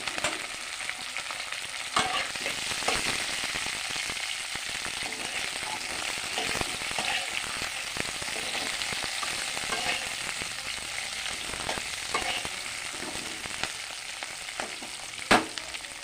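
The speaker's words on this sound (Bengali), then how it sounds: "একটু হালকা ভেজে নেব" Chopped onion and green chilli fry in a pan for egg chilli, a steady close sizzle with faint stirring scrapes throughout and no talking.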